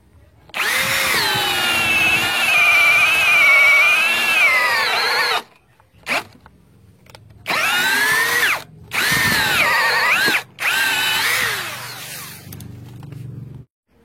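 An MLHY 21-volt brushless drill driver runs in drilling mode at speed 2, a loud close motor whine held for several seconds, then cut into three shorter bursts with brief silences between.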